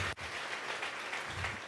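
Church congregation clapping hands together as an offering of praise during a live Spanish-language service, a dense, steady wash of applause from many people, fairly loud and continuous throughout with no clear speech.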